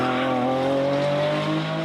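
A Lamborghini Revuelto hybrid supercar driving fast on a freeway, a steady, loud, high-revving engine drone with whining harmonics that drift slightly in pitch, close and continuous without talk.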